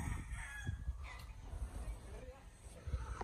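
A rooster in the Philippines crows among chickens, its call rising over nearby clucking and thumps, with voices in the background.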